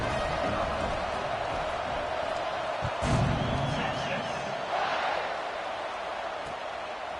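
Steady roar of a stadium crowd at an American football kickoff after a touchdown, a loud continuous wash of cheering with a brief surge in the middle, with a commentator's voice over it.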